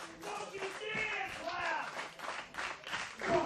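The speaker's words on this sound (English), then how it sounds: "Jason Rumble taking exception to the fans clapping" Fans at a wrestling show clap in scattered bursts while a commentator talks over the noise, the crowd moderately loud amid thuds from the ring.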